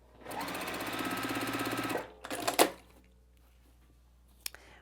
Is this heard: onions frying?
no